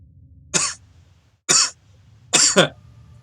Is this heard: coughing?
yes